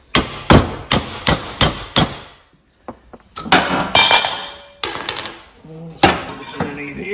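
Sharp metal hammer blows drive a new bearing into a Husqvarna riding mower deck spindle, a quick run of five ringing strikes followed by scattered clinks and a few more hits, close and loud.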